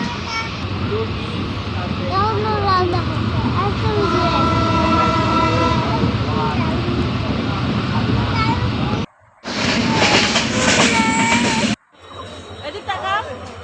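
A passenger train rolls along the rails on a journey from Panchagarh to Sirajganj, heard from inside as a loud, steady rumble with rattling, squealing wheel tones, interrupted by two brief drops before the noise returns, with people talking over it.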